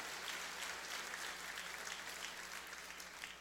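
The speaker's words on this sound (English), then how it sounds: "I'd love you to give yourselves a massive round of applause for that." Sustained applause from a summit audience fills the space evenly, a steady wash of many hands clapping at moderate distance with no talk over it.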